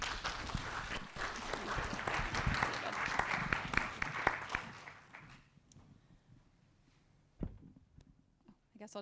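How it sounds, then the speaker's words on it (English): An audience applauds after a medical session on FDA approvals for small cell lung cancer, a dense burst of clapping that fades out midway, followed by quieter room noise and a single sharp knock. "one more time, let's give another big round of applause for Dr. Singhi."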